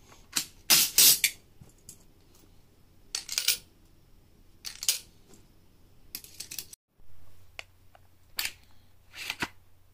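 Quarters clink and tap against a bolt catch in a series of short, crisp metallic clicks, close and separated by quiet gaps.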